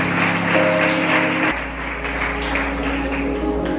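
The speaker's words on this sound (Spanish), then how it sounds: "¿le quieres dar un fuerte aplauso a Dios?" Congregation applause during a Spanish-language religious sermon, a moderate wash of clapping lasting several seconds with a steady hum in the background and no speech.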